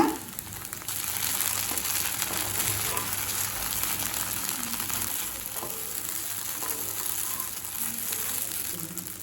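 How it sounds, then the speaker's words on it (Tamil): Idli pieces frying in a pan over a medium flame produce a constant close sizzle with occasional light stirring clicks and scrapes, steady and unbroken, with no voices. "மீடியம் ஃப்ளேம்லேயே வச்சுட்டு மெதுவாக ஃப்ரை பண்ணிக்கோங்க."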